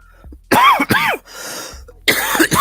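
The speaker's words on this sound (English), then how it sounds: "Sorry for coughing in your ears." Two harsh, close coughs in quick succession, then a short breathy pause before a further burst of throat-clearing cough, loud and up front with no talk over it.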